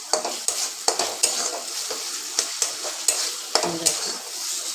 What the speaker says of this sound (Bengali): এবার আমি হাই ফ্লেমে দিয়ে সমানে নেড়ে নেড়ে মশলাটাকে একটু কষিয়ে নেব বা ভেজে